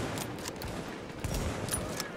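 Gunfire in The Division's Dark Zone comes as a quick scatter of sharp, moderately loud shots with irregular spacing. Faint talk sits underneath.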